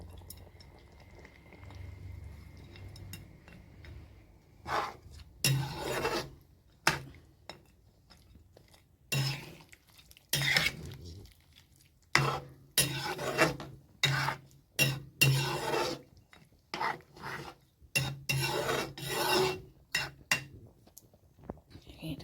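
Duck curry with homemade masala being stirred in a pot, bursts of scraping and wet, thick churning that come and go in irregular strokes with quiet gaps between.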